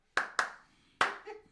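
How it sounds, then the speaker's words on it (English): Bare hands clapping with no music, three sharp close claps, the first two quick together and the third after a short pause, followed by a faint hum. "I'll hum it and clap a cappella."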